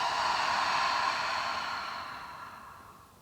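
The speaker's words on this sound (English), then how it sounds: "And then open the mouth, exhale, let it go." A single long open-mouth exhale during a yoga breathing exercise: a close, airy whoosh that starts strong and slowly fades over about three seconds, with no talking.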